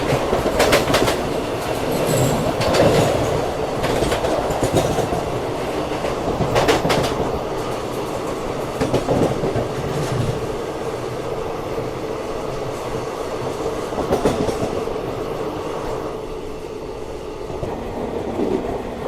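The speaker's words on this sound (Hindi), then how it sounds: "सामने से आ रही है एर्नाकुलम हज़रत निज़ामुद्दीन दुरंतो एक्सप्रेस" Ernakulam–Hazrat Nizamuddin Duronto Express approaching on Indian rail track, steady loud rumble of wheels with rhythmic clickety-clack over rail joints, continuous throughout with no talk.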